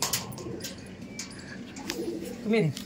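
Pigeons coo inside a loft during wet monsoon weather, with a low, rolling coo rising clearly near the end over a faint, busy background.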